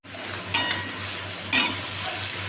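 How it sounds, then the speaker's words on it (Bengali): Bottle gourd and potato curry frying in a pan with panch phoron, black cumin and green chili. A steady close sizzle runs throughout, with two brief scraping stirs of a spatula. "বসিয়ে দিলাম লাউ আলুর তরকারিটা দেখো পাঁচফোড়ন কালো জিরে দিয়ে"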